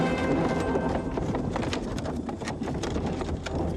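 Heavy draft horse pulling a cart, its hooves clip-clopping in a steady run of close, dense impacts over a busy, noisy background with birds faintly present.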